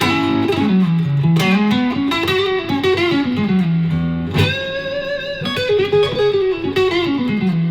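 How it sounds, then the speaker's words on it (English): A Sire Strat-style electric guitar on its front pickup with slight overdrive plays a flowing melodic line of bent and sliding notes, with chords ringing out. The tone is warm and gritty, close and loud, and there is no talking. "You've got the front pickup there. I just put a little bit of dirt on."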